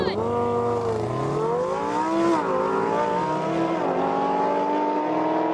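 An 840-horsepower Audi RS6 and a Lamborghini Huracan Performante launching side by side in a drag race, a loud sustained engine roar that climbs and drops through gear changes, with no pause.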